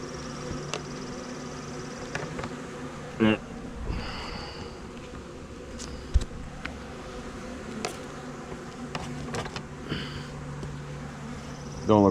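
Small honey bee swarm buzzing steadily at a hive box, a faint continuous hum with a few louder passes of individual bees near the microphone, while people talk over it.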